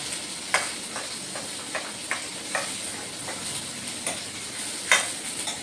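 Eggplant curry ingredients fry steadily in a pan, giving a soft continuous sizzle with occasional light taps and stirring clicks on top, close-up and moderately quiet, with no one speaking.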